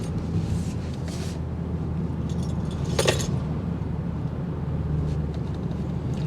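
A 2025 Mini Countryman S All4 SUV drives through road bends, giving a steady low cabin and road hum with a few faint ticks and clicks over it.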